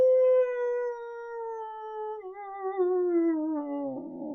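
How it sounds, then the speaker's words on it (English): A single wolf's howl, long and tonal with smooth pitch glides, echoing from inside a jail; loud and close, holding a high note before bending lower and breaking into a rougher tail. "The loud howling of a wolf could be heard echoing from inside the jail."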